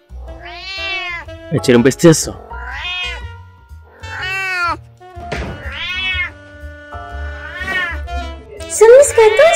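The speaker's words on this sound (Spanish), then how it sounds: "¿Un gato maullar?" A house cat meows several times in drawn-out, rising and falling cries, loud and close, with brief thumps and people speaking between the calls.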